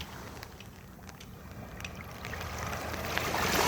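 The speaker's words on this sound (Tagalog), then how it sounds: "Oh, ayan, liit ng alon oh." Small, calm sea waves wash softly along the shore in a steady, gentle hiss that swells slightly toward the end, with a light breeze and no voices.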